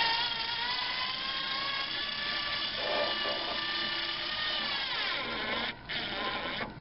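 A power screwdriver drives a screw into wood while securing a bathroom shelving unit in an RV, a close, steady whining whir that rises slightly and cuts out near the end.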